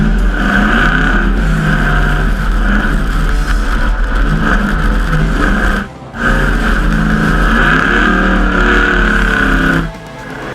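A Ford F-150 SVT Raptor's V8 in Need for Speed roars loudly and continuously near the listener, a sustained throaty drone with one brief dip around the middle before resuming.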